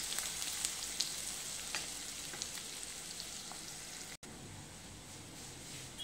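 Finely chopped onion sizzles and fries steadily in a pan, a continuous close crackle with a brief break near the end.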